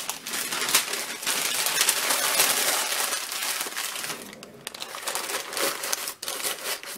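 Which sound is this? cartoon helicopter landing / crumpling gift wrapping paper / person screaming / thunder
crumpling gift wrapping paper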